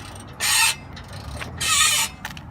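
Two short harsh grinding, ratcheting bursts come from an exhaust bolt stripping as it is loosened under a 1996 Chevy Cavalier, each lasting about a quarter second with a quieter gap between them.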